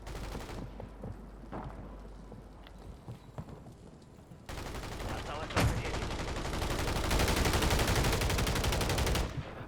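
Bursts of rapid video game gunfire crackle throughout, growing louder and denser in the second half, with no talking.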